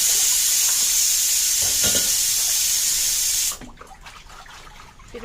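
Running water from a kitchen tap splashes at a sink while dishes are washed, a loud steady hiss with brief clinks, then the flow shuts off, leaving quiet handling sounds.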